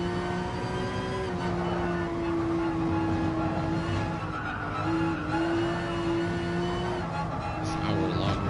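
A race car overshoots a hairpin corner during an hour-long GTCA Turkey Day race and runs into the gravel, its engine holding a steady, close droning note under a continuous rough wash of tire and surface noise, with no talking.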